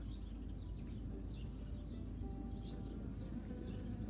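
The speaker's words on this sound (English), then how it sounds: "hopefully I'm getting these bees flying around and landing on this plant" Constant low buzzing of bees flying close around a flowering succulent, a steady drone with occasional higher chirps from birds far off.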